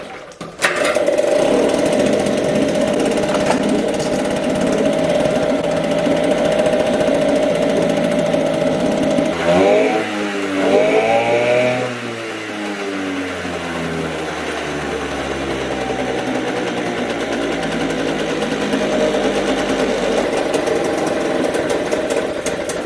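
An outboard boat motor with a dirty carburetor runs loud and close with a steady, rough, rattling drone, dips in pitch as it settles, then keeps idling.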